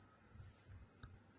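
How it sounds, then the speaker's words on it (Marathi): Night crickets chirp in a steady, faint, continuous trill, with no other sound over it. "असा आवाज येतो ना, ते असे रात्रीचे किडे ओरडतात"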